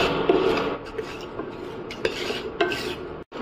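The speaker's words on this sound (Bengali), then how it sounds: "এবারে মশলাগুলোকে 2 থেকে 3" Whole spices, including bay leaf, dry roasting in a pan over medium heat on an induction cooktop for chicken biryani, giving a steady close scraping and rattling as they are stirred, with a few sharper clinks against the pan.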